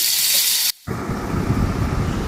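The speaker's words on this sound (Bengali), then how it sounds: "পনিরগুলোকে আমি খুব ভালো করে একটু ভেজে নেব" Pieces of paneer fry in a pan for a paneer masala curry, giving a dense, close sizzling hiss. It cuts off briefly near the start, then resumes steadily without voices.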